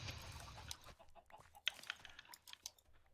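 Video game chickens at an automatic chicken farm give scattered soft clucks and brief chirps over a low, faint background murmur, with no talking.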